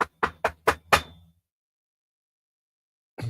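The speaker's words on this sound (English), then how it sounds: "You're going to get a knock on your door." Five sharp knocks on a door in quick succession, loud and close, followed by about two seconds of silence and then a brief low sound at the very end.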